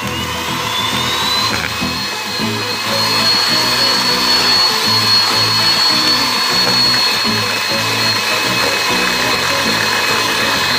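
An electric hand mixer whirs steadily as it beats batter for a steamed banana cake, with a continuous motor drone and a faint high whine that holds loud and close throughout.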